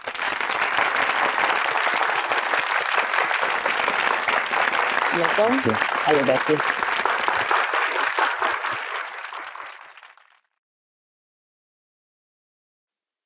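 Studio audience applause welcoming a psychiatrist guest on a talk show, a dense steady wash of clapping for about ten seconds that fades out to silence, with a brief spoken greeting partway through.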